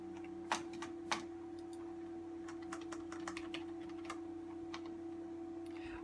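Keys on a computer keyboard are typed irregularly, with a couple of louder clacks at the start followed by lighter, scattered taps over a constant electrical hum. They sound close and isolated, with no talking.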